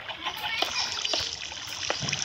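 Water is placed in the video game Minecraft while building a Nether portal, giving a continuous splashing, flowing game sound with someone talking over it.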